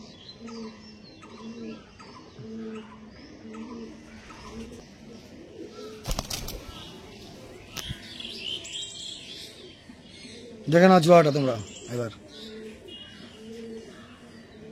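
A pair of tippler pigeons coos in repeated low, throaty phrases at close range while someone talks intermittently. Sharp knocks and a louder rasping burst break in near the middle and late in the stretch.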